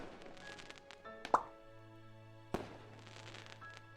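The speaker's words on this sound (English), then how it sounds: "The loud sound of a firework going off makes both of us jump." A firework in a visual novel game goes off as a single sharp pop, followed by a second duller thump, both fairly quiet against a soft sustained musical backdrop.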